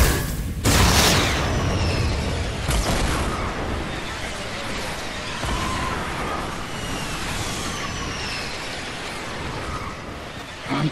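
Rocket explosions in the Fortnite-style battle royale game near Tilted Towers: a heavy boom at the start followed by sharp blasts around the third and fifth seconds, set against dense game noise.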